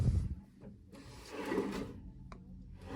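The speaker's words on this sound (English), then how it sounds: "Check out these fancy little drawers, the baskets." Small basket drawers in an interior cruise ship cabin slide open with a soft rubbing, rattling scrape, close and fairly quiet, with a few light knocks and no voices.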